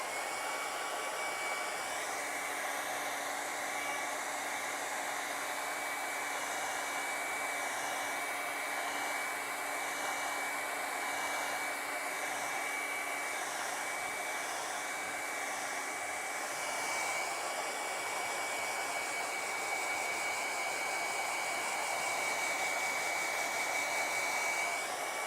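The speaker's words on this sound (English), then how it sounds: "you can see this paper starting to move with the wind force from the hairdryer" A hair dryer blows steadily on Spectrafix-dampened drawing paper during a pan pastel and colored pencil art session, giving a constant close airy roar that runs unbroken throughout with no talking.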